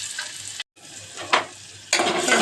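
Finely chopped onion frying over low heat in oil mixed with coconut oil gives a close hissing sizzle, with one brief gap and a sharp stir near the middle before the sizzle swells again.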